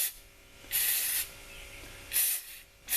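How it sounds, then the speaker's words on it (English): Silicone lubricant sprays onto the caliper pins of a 2017 Chevy Cruze during a brake and rotor job, two short hissing bursts from an aerosol can, close up, over a low background hum. "we'll spray this with some new silicone."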